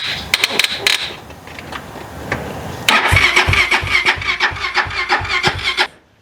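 Engine cranking and catching after sitting unused for months: a rattling start, then a louder sputtering idle with irregular pulses close by, cutting out abruptly at the end.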